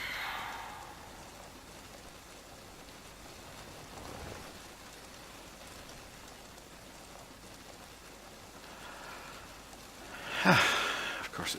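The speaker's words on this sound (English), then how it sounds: "Of course it's raining." Steady rain falls in the ArmA mission, a soft continuous wash of drops that persists throughout, with a sharper burst of noise near the end.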